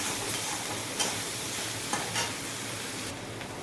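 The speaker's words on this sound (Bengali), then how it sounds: "পেঁয়াজের মধ্যে অল্প করে লবণ দেবো যাতে পেঁয়াজটা তাড়াতাড়ি কিন্তু ভাজা হয়ে যাবে।" Sliced onion frying with a little salt in a pan, a steady soft sizzle with a few brief stirring scrapes, close and alone without talk.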